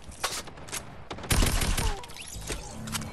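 Rapid bursts of Tommy gun fire in Fortnite crackle in short volleys, with other shots and game effects scattered between them, moderately loud with no talk.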